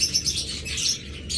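Cockatiels chirp in short, repeated high bursts close by, bright and fairly loud over faint background hum.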